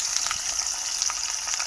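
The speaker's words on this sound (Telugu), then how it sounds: "ఉల్లిపాయలు ఇలా వేగుతున్నాయి కదండి" Sliced onions fry in hot oil for a chikkudukaya fry, a dense steady sizzle with crisp crackles, close and continuous with no voices.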